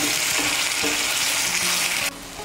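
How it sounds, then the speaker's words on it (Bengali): Hot water poured into a sizzling spice mixture for a vegetarian banana-flower curry, a loud dense hiss that drops to a quieter simmer near the end of the short burst. "এর মধ্যে আমি দিয়ে দিচ্ছি 2 কাপ গরম জল।"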